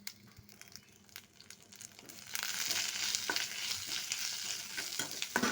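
Drumstick leaves being stir-fried in oil with curry leaves as a tempering for pumpkin erissery: quiet stirring at first, then a strong, steady close sizzle swells up and continues, with occasional scraping.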